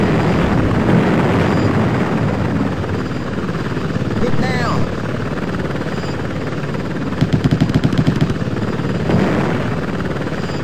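An Apache Longbow helicopter in a video game fires its chain gun, a rapid burst of about a dozen sharp shots near the end, over a constant rotor drone with radio-style voices talking throughout.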